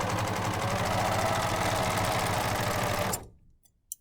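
An overlocker runs fast and steady while sewing a seam, a dense mechanical whirr of rapid stitching that stops abruptly near the end, leaving near silence with a faint click.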